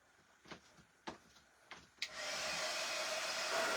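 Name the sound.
hair dryer air drying a craft paste finish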